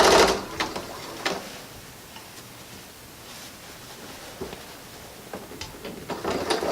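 A sewing machine stitches the elastic casing of pajama pants in short, intermittent bursts of whirring and clicking between quieter pauses of fabric handling, close by with no speech.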